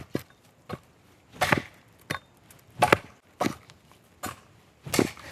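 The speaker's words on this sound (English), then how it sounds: "So let's see about how long it takes to chop a little notch in here anyway." A Cold Steel Hudson Bay tomahawk chopping a notch into hard oak, about eight sharp one-handed wooden thwacks at uneven intervals, close and distinct with quiet gaps between blows.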